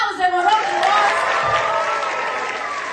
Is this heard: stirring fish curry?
no